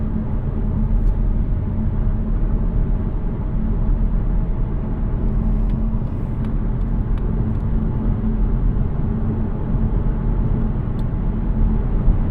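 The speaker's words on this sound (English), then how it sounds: "I'll give you all the little stress of what the road noise is like on the highway, just cruising at speed" Road noise fills the cabin of a 2024 Mazda CX-30 cruising at highway speed: a constant low rumble and tire drone with no talking, broken only by a few faint ticks and clicks.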